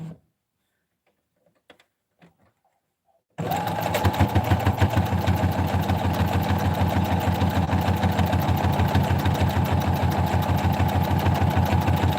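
A home sewing machine chain-piecing potholders runs steadily at close range after a few seconds of near silence, its quiet, even mechanical whir carrying a fast regular stitching tick throughout.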